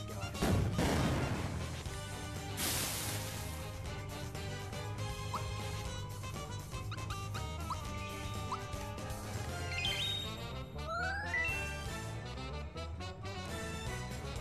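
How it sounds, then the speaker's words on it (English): Fright bombs go off in the Super Mario RPG video game as a string of crashing blasts and pops, layered over busy game music and rising whistle-like effects. "There we go, the fright bombs."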